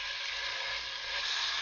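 Pork loin browning in olive oil in a pan, giving a steady close hiss and sizzle that runs unbroken for the whole short stretch.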